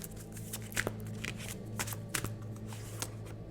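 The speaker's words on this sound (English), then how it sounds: "I'm just going to pull a card for us from the power deck, the cards of wisdom." Oracle cards from a power deck being shuffled and pulled, soft papery flicks and riffles in a quick uneven rhythm, close and quiet with no talking.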